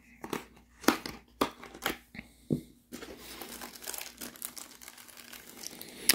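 Scissors snip and crackle through the plastic packaging of Nintendo Switch accessories: a run of sharp crinkling cuts followed by steady rustling of the wrapper, close by.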